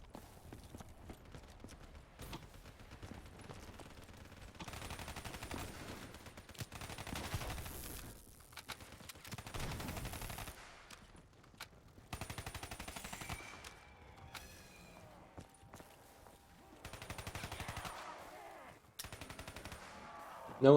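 Rapid bursts of automatic gunfire from a dual-wielded A12 shotgun and P90 in Call of Duty: Black Ops 3 Nightmares mode, loud repeated volleys separated by short pauses.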